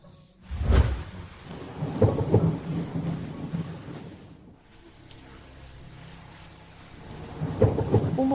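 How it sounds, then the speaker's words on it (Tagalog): Heavy rain pours after years of drought while thunder rolls in loud, deep bursts near the start and again at the end, with steady downpour hissing between them. "Umuulan na."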